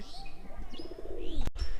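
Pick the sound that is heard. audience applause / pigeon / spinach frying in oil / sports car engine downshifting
pigeon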